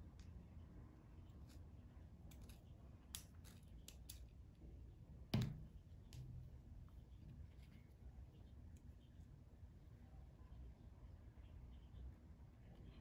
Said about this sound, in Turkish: O yüzden şöyle bir mutfak makasıyla keseceğim.